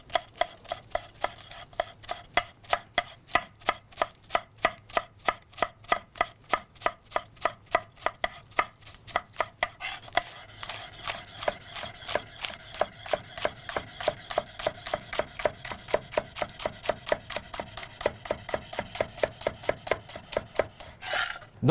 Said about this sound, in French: On cisèle.